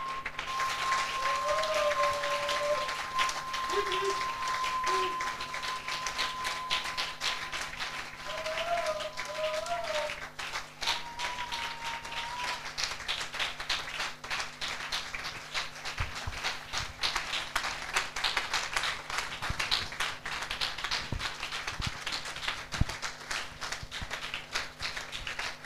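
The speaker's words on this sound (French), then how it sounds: "Can you give him a hand of applause, somebody?" A church congregation applauds during a bilingual French-English service, steady clapping running throughout under a busy room with voices, a sustained tone and music-like pitched lines in the background.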